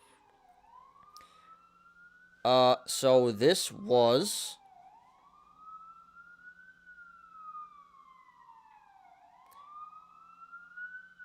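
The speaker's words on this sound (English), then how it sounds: "Apologies about the sirens, guys. I'm going to talk over it." Emergency vehicle sirens wail outside, a steady rising and falling tone that persists through the whole stretch, while someone talks loudly over it for a couple of seconds in the middle.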